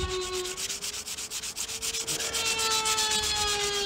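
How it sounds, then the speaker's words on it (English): Hand sanding on a fibreglass boat hull under repair for impact damage, with steady rhythmic rasping strokes close by, alone, with a faint tonal whine running underneath. "the vast majority of our time is going to be spent sanding"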